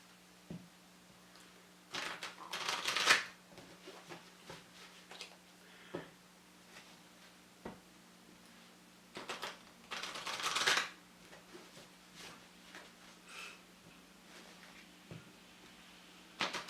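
Two crisp bursts of card shuffling, each a quick rippling riffle, separated by quiet pauses with faint small handling clicks in between.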